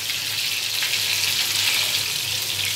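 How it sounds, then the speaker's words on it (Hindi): Chicken pieces sizzling as they grill in a pan, a steady dense crackle and hiss close up with no talking. "दोनों तरफ से अच्छे से पकाएंगे हम इसे ताकि उसके ऊपर ग्रिलिंग के मार्क्स आ जाएं।"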